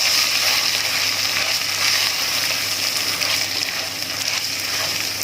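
Rice sautés in oil, not ghee, in a pan with a steady, close, bright sizzle that hisses evenly throughout with no talking.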